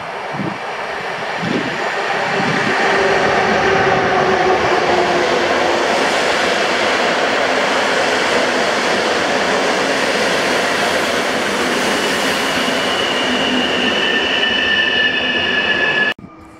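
Train arriving at the Łowicz Główny station platform, a loud steady rumble of wheels and carriages with high metallic squeals rising over the roar, lasting throughout and cutting off at the end.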